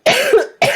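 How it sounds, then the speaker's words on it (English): A single harsh cough bursts out, followed by a short pause and the start of a second cough, loud and close, from a person teaching a geometry lesson. "I thought I was going to be done coughing."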